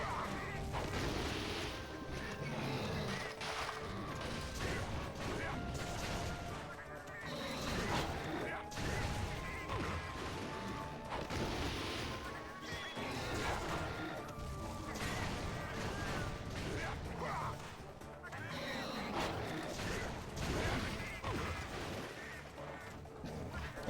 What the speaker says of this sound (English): those bombs are starting to add up